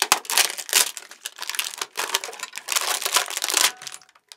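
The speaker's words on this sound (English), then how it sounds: "So it comes in plastic. Gotta open this up." Plastic packaging crinkles and tears as it is unwrapped from a tamborim, a small Brazilian hand drum, in close, busy bursts of rustling that fade out near the end.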